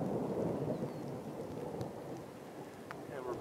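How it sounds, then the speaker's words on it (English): Steady rain hiss with low rumbling thunder from a Tucson, Arizona monsoon storm, continuous and fairly loud throughout, with a few faint crackles above the downpour. "we're beginning to get some rain drops here."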